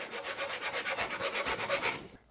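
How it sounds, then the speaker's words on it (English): Steady rhythmic rasping of sandpaper rubbed back and forth by hand on a wooden hangboard, about a dozen close strokes, then it stops. "I think really the only thing I can do now is hand sand"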